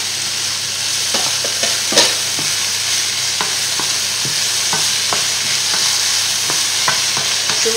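Bell peppers fry in a hot pan with a steady, close sizzle, and a utensil stirs them with scattered scrapes and clicks. Nobody speaks.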